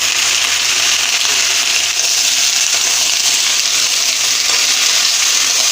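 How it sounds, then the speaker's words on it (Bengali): Mixed vegetables frying and being stirred in hot oil with panch phoron and dried chilli, a steady close sizzle with bright hiss running unbroken throughout, no voices. "এবার সবজিগুলো দিয়ে ভেজে নেব।"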